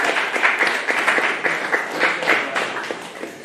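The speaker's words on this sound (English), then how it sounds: "Let's give a big round of applause." A seated conference audience at a philosophy of sport event gives closing applause, steady overlapping clapping with individual claps popping out, filling the room evenly.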